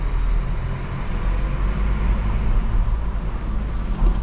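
A steady low diesel engine rumble from a Škoda Octavia 4 drones continuously, fairly loud and even throughout, heard from inside with the window down.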